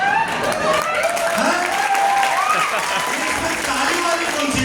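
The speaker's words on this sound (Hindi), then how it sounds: "ताली वाली कौन सी बात है?" Audience at a motivational success-training seminar bursts into sustained applause, steady dense clapping filling the room at a loud level, with a voice talking over it.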